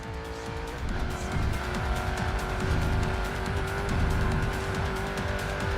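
A BMW M8 race car on a grip run at the Nürburgring in the game Racing Master, its engine droning steadily and loudly with tires squealing through corners, no talk.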